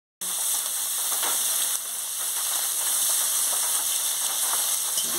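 Panch phoron and dried red chillies sizzle in hot oil after bitter gourd slices have been fried, a steady close hiss with faint crackles throughout, no voices.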